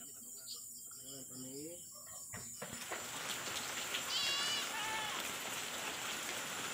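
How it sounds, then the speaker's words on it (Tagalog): Rain falling outdoors during a CCTV camera installation, a steady broadband hiss that swells and grows louder partway through, with a person talking early on and faint chirps over the downpour. "Nahabutan tayo ng ulan, umulan."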